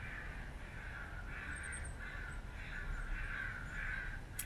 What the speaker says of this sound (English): These crows are too loud for me